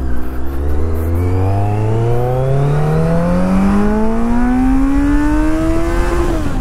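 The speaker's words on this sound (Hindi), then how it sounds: "bike ki sound" A Kawasaki Z900 motorcycle engine revs loud and close while riding, its pitch climbing steadily through one long pull before easing off at the very end, strong harmonic drone with no talk.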